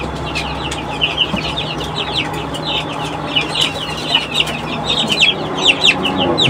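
A rooster with swollen comb and hen-like wing feathers, kept in a backyard coop, gives repeated short clucks and chirpy calls over steady farmyard background noise, with several bursts across the span.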